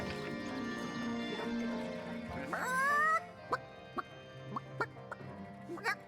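A rooster in the Divinity: Original Sin Enhanced Edition role-playing game gives a loud crowing squawk, then a run of short, sharp clucks spaced irregularly, with no talk over it.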